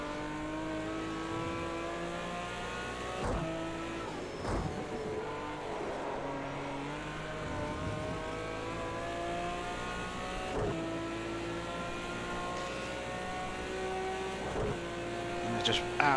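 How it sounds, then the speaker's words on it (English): A race car engine revs hard and holds high pitch through long gear pulls at Monza in Project CARS 2, loud and continuous, with brief shifts and someone talking over it. "And it just absolutely revs for days as well."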